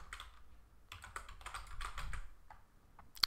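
Keys on a computer keyboard tapped in short bursts, with a brief pause partway through and a sharper final click, close and fairly quiet, with no voices.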